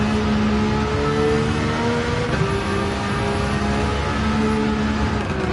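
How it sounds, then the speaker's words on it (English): In Gran Turismo 7, a turbocharged 2002 Nissan Skyline R34 GT-R V-Spec II Nür engine drones steadily with a high, faint turbo whistle layered over it, rising slightly as the engine pulls through the gears. "Once you start hearing that whistling sound, you know it's a turbocharged kicking in."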